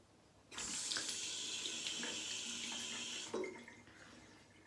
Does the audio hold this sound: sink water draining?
yes